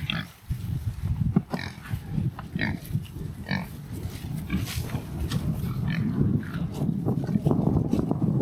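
Several pigs grunt steadily in a farm paddock, a dense low chorus of overlapping snorts close to the microphone, with light wind noise in the background.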